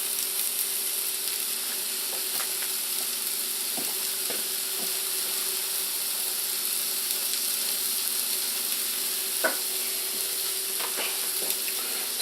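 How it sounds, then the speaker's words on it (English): Red onion sautés in olive oil in a pan, a soft, even sizzle holding steady for the whole stretch, with occasional light clicks of a utensil and nobody speaking. "So we're just going to cook our red onion here."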